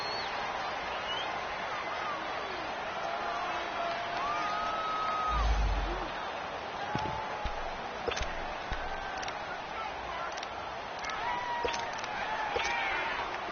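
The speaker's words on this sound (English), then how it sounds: "Home field advantage is really kicking in, making it very difficult for them to hear the snap count." Stadium crowd noise in a football video game, a steady wash of cheering and murmur at a home field, swelling briefly in the middle with scattered whistles and whoops on top.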